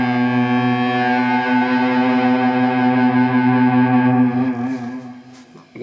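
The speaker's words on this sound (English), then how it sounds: "You can hear kind of that flutter on the note there." An electric guitar played through an MI Effects Lo-Fi Delay pedal sustains a distorted, harmonically rich note with a wavering flutter and echoing repeats, loud and steady before fading out near the end.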